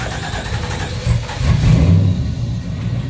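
A 3D printed Lamborghini Aventador replica engine cranking and catching on a cold day, a close, loud mechanical churn that swells into a brief rev and then settles.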